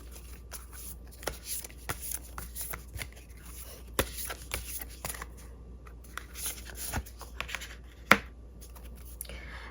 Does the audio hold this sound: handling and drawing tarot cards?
yes